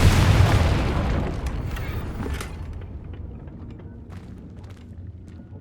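The Confringo spell explodes in the video game Hogwarts Legacy: a loud, broad blast hits at once, then fades into a long rumbling tail with a few faint crackles.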